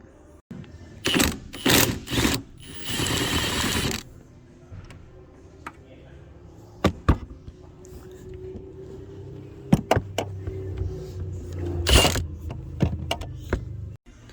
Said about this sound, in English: So that's what I'm using, 1/2" Milwaukee, 1/2" extension, 14mm long socket.